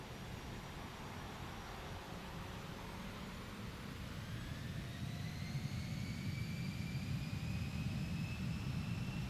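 A steady airplane engine drones in a Microsoft Flight Simulator 2024 session, a broad constant roar with a faint rising whine, heard alone with no talk.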